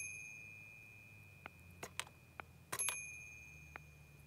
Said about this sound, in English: Maybe that's the doorbell.